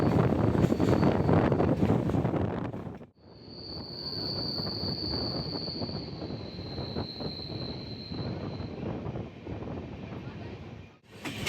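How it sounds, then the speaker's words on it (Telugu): Visakhapatnam to Araku daily passenger train running, heard from on board as a steady loud rumble of wheels and carriages, with a thin squeal above it and wind buffeting the microphone, broken by two brief dips. "ఇది మనకు డైలీ రన్నింగ్ ట్రైన్ అండి."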